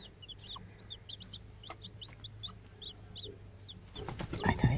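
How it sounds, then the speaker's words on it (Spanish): A mother hen sitting over hatching eggs gives a series of soft, close clucks in a steady rhythm, with thin chick peeps and a burst of rustling at the end. "Ella es la mamá gallina."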